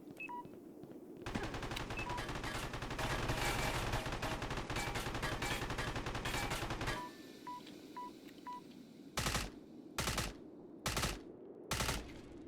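Rapid bursts of suppressed gunfire from a silenced weapon in the indie game Pigface crackle in a sustained stream for several seconds, then give way to a few short separate shots near the end.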